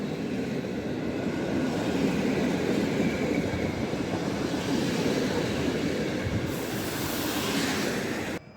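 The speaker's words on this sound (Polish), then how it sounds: "Odjeżdża linia lotniskowa relacji Warszawa Lotnisko Chopina Modlin" A train pulls out of Warszawa Wschodnia station in Warsaw with a continuous, fairly close rumble and rattle of wheels and carriages. The sound holds steady for several seconds before cutting off.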